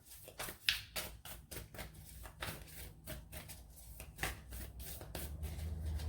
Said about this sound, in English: Like half the video is going to be me shuffling.